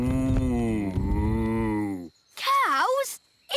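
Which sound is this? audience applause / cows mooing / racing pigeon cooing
cows mooing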